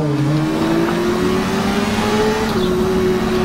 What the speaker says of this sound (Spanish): Andando con mi moto en la ciudad